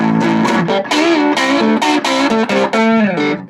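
An electric guitar on its neck pickup plays a short melodic phrase with bends and distinct picked notes, warm and slightly overdriven through a 1960s Beltone AP-14 tube amplifier.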